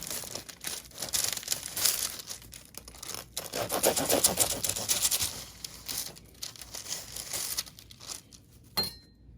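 Crisp crackling and crunching as a knife saws through a crusty baguette, steady rasping strokes up close, ending with a sharp final snap.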